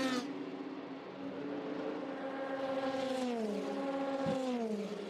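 A Porsche race car at the 2016 24 Hours of Le Mans screams past, its high engine whine rising, then bending downward as it goes by, over a steady background of track noise.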